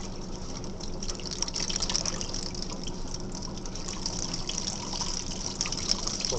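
Three rinsed throws are wrung out in a wringer, releasing a continuous close gush and trickle of water that streams steadily throughout.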